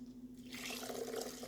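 Water trickles into ground safflower seed while it is being ground into a milky paste, a soft, quiet pour and dribble that starts faintly and grows steadier after about half a second, with no talk.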